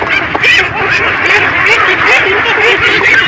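A dense flock of ducks on a large duck farm quacks nonstop and loudly at close range, many overlapping calls forming a continuous din.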